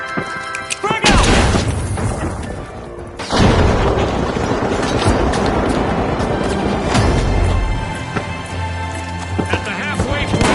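A frag grenade in The Finals lands and explodes with a heavy, loud, close boom, followed by crashing debris and continued game noise, while voices talk over it.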